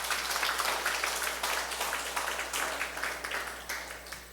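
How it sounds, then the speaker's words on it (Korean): Audience applause fills an award ceremony marking a bamboo salt day commemoration, a dense, steady wash of many hands clapping at moderate distance, fairly quiet and continuous without talk. "박수 부탁드리겠습니다"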